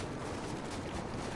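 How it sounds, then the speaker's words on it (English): A thermal imploder explosion in the Star Wars Battlefront video game goes off as a brief, dense burst of crackling blasts, loud and rough, filling the short moment with no pause. "Explosion!"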